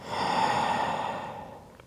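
A deep inhalation through the nose during a yoga flow, one long smooth breath close to the mic that swells quickly and then fades over about two seconds.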